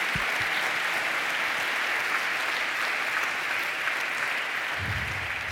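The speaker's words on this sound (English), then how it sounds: "I think you deserve another round of applause." Sustained applause from an audience fills the space, a dense, even clapping that continues steadily throughout.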